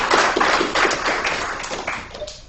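A small group claps for a presenter after a talk, a brief, thin patter of hands that fades within a couple of seconds.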